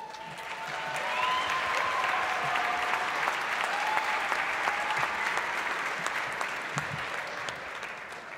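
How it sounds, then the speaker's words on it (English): Sustained applause from a concert audience for the Detroit Pistons vice president at a classical music honors concert, a dense steady wash of clapping lasting throughout at moderate distance. "I'm asking for the biggest round of applause for Vice President of the Detroit Pistons, Aaron Tellem"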